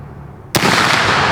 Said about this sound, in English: I think I shot low